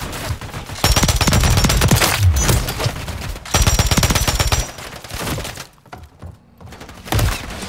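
Bursts of automatic gunfire in Call of Duty Modern Warfare 3 multiplayer on the Stash House map, loud rapid volleys separated by short pauses, with sharp cracks and a final brief burst.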